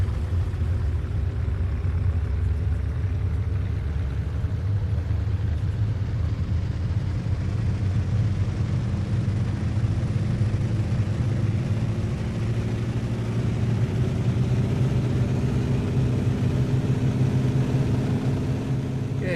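A Bf 108 Taifun's engine in Microsoft Flight Simulator building power for takeoff, a steady droning rumble that holds constant and fairly loud throughout, a faint rising hum underneath, with no talking.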